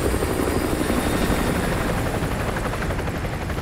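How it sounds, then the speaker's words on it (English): Helicopter from Call of Duty Modern Warfare 2 Remastered campaign passing overhead, a loud, steady rotor thrum with dense broadband wash that fills the whole stretch without pause. "Chopper inbound."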